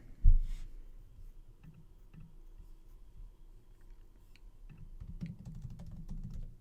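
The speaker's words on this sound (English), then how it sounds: "We'll just type in San Diego and see what pops up." Quick bursts of keystrokes tapped on a computer keyboard, close and soft, with brief pauses between runs of typing and no voices.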